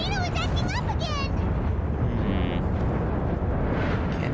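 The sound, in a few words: volcano eruption rumble in video game Genshin Impact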